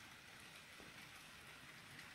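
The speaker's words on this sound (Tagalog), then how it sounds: "Ang dami ng ice na ulan." Dense, steady patter of ice pellets falling like rain, a continuous hiss of many small impacts, fairly faint.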